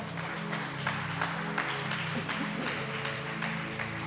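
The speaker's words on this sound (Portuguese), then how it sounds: "Aplaude a Ele bem forte." Church congregation clapping, a moderate wash of many hands heard with a steady low musical drone underneath, fairly even in level throughout.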